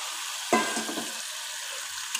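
Pre-boiled mung dal, first fried then pressure-cooked, drops into a hot frying pan with fish head and sets off a sudden loud sizzle, then settles into steady frying crackle with light stirring scrapes.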